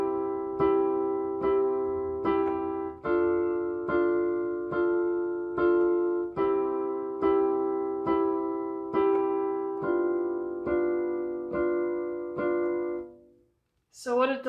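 A keyboard plays a steady sequence of sustained chords with the sustain pedal held, roughly a dozen chord changes flowing into one another without gaps before the final chord rings out and a brief voice enters at the end.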